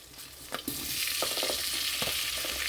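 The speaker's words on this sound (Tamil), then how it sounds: "நல்லா கிளறி விட்டுக்கோங்க" Four tomatoes added to softened onions in a pan for a soya chunk curry, stirred as they sauté, with a few scraping strokes, then a loud, steady sizzle that rises and holds close by.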